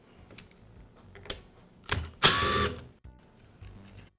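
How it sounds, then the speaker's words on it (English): Rear motor cover being removed from a DeWALT angle grinder during a brush spring repair: a few close plastic clicks and taps, then a loud half-second scraping rasp, followed by quieter handling clicks. "I'll begin by removing the rear motor cover."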